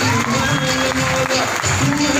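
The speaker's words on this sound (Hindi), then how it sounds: "एक बार सबके लिए जोरदार ताली" Audience at a Safe Shop motivational seminar breaking into loud applause, a dense, continuous clatter of clapping filling the hall, with voices mixed in.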